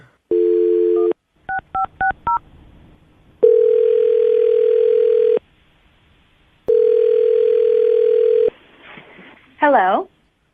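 Telephone dialing: a burst of quick keypad tones, then long steady ringback tones with pauses, ending with a short voice answering.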